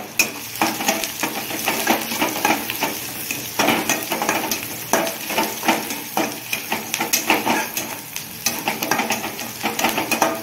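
Chopped onion sautés with a pinch of turmeric in a hot pan, giving a steady close sizzle broken by repeated scraping and clinks of a spatula stirring against the metal, with no talking.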